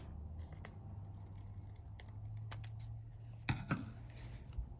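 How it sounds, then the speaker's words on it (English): A couple of sharp snipping cuts of scissors trimming paper near the end, over a low steady background hum, with a few faint clicks earlier. "I'm gonna trim that off with some scissors."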